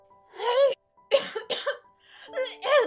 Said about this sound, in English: Kneeling on all fours, she proceeded to cough up dye.